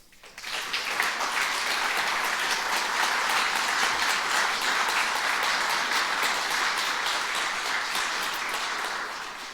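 Concert audience applause fills the hall, a dense, steady wash of many hands clapping that rises quickly, holds loud and even for several seconds, then begins to taper.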